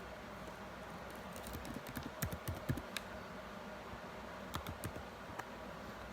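Quiet typing on a computer keyboard while entering biodata into a Java program, soft scattered key clicks in short bursts with brief pauses, close but faint over low room hum.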